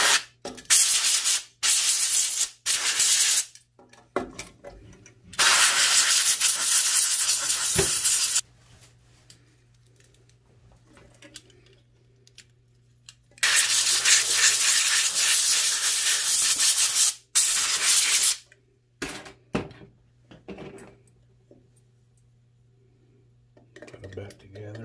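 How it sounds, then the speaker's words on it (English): Long loud hissing sprays of cleaner on a washer/dryer coin mechanism come in bursts, separated by quieter stretches with short sharp hisses and faint handling clatter. "I'm going to just spray it off and clean it up."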